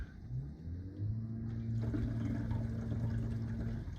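Dishwasher pumping out into a kitchen sink drain that had been leaking, a low rumbling gush of water that starts faintly and then flows steadily and loudly for several seconds.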